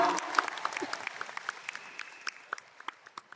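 An audience applauds a director named Ted at a leadership training meeting in Kuala Lumpur. Claps start as a fuller round, then thin to scattered single claps, with a few voices.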